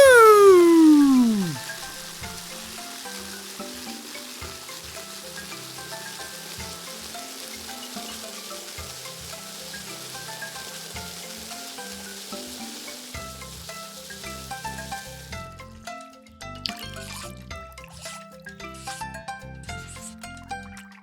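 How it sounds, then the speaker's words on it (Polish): Water sprays steadily in a hissing shower over Charlie, a cartoon car, in a car town, starting with a sliding whistle and continuing under light background music. "Charlie zasłużył na prysznic."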